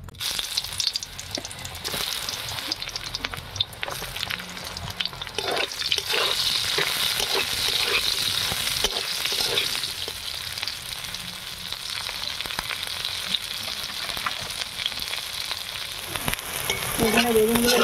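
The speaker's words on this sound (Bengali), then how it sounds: "আমি ওই মাছ ভাজার তেলে বেগুনগুলো ভেজে নেব।" Brinjal (eggplant) pieces fry in oil left over from frying fish in a kadai, making a steady, close, continuous sizzle with occasional stirring and no talking.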